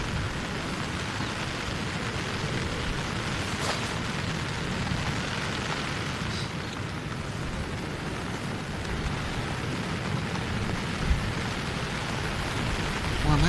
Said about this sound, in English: maybe that rain is getting heavier because we can just hear it pitter-pattering onto the microphone